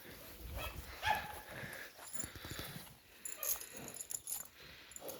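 A draft mare moves on a farm, hooves thudding and clopping irregularly at a modest distance, with a faint jangle of metal and low background sounds.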